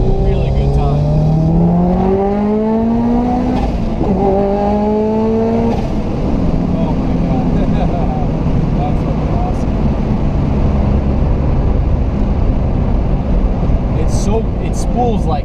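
A Subaru Impreza S203 replica with a quick-spooling turbo engine, around 350 wheel horsepower, drives on a track, rising through gears with loud climbing revs that give way to a steady roar, while a person talks throughout.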